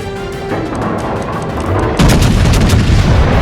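Heavy naval gun salvos from the battleship IOWA in a video game, a dense rumbling barrage that swells louder partway through and stays continuous, with no voices.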